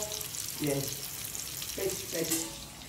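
Fish frying hot in a pan sizzles steadily up close while a person talks briefly over it in a couple of short bursts.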